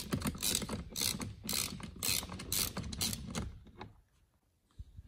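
A hand ratchet clicks in rapid repeated strokes, close and crisp, backing out 10 mm airbag bolts on a Mazda RX-7 FD steering wheel, then stops into near quiet.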